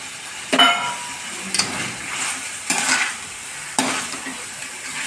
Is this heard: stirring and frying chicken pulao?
yes